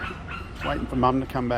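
A pup yips, whimpers and barks in short bursts on a town street, overlapping a person who talks nearby.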